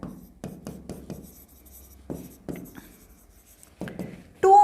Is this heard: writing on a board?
yes